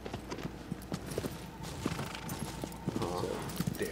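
Agro the horse gallops in Shadow of the Colossus, with rapid rhythmic hoofbeats thudding close and steady while a player talks over them.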